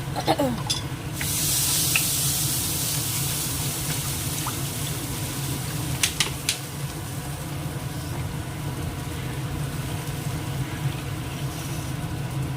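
Turmeric powder in water is poured into a pan while cooking, giving a steady broadband pouring and sizzling wash that continues evenly throughout, with a few faint clinks near the start.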